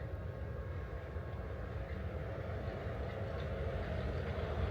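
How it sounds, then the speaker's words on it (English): A Disney monorail train arrives with a steady low rumbling hum that grows slightly louder as it approaches, heard without talk. "Look at her, monorail!"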